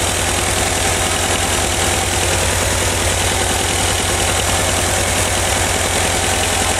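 Engine of a 1985 Volkswagen Vanagon idling loudly and evenly up close, a steady low drone with rhythmic pulsing; no clear throttle blip or stall is evident.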